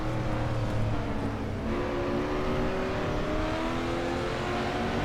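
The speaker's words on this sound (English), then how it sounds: "let you guys enjoy the sounds of the Mustang for a lap" Engine of a 1992 Mustang DTM race car lapping the Nurburgring GP in the RaceRoom Racing Experience game: a loud, continuous close-up drone that rises and shifts in pitch as it accelerates, with no voices.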